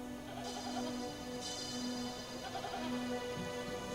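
A herd of goats is bleating in dry desert hills near Qumran. Several overlapping bleats sound at moderate distance over a faint, steady background hum.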